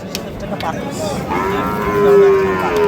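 A Sahiwal bull at a village cattle market lows once in a long, rising moo, close and loud over a noisy crowd background.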